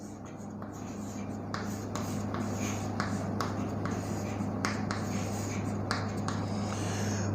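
Writing on a board, a series of short scratchy strokes and taps repeating unevenly over a constant low hum, fairly quiet and close, with faint voice in places.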